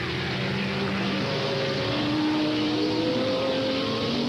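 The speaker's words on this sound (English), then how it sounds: "Jaguar going very slowly right here, up on the banking, following the pace car" A 1986 Jaguar IMSA GTP prototype race car crawling slowly along the Daytona banking behind the pace car, its engine a steady droning roar with slowly rising and falling pitch, loud and continuous.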